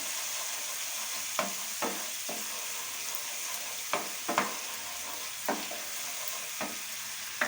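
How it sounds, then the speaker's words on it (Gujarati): Garlic chutney sautés in a pan on a low flame while making spicy lasaniya bhungra potatoes, giving a steady soft sizzle broken by several sharp scraping stirs spaced through the clip. "ગેસ ધીમો કરી અને આપણે 2-3 મિનિટ સાતળી લઈશું"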